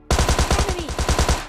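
Rapid automatic gunfire in a shooting video game, about a dozen evenly spaced punchy shots in one quick burst, loud and close, with no voices.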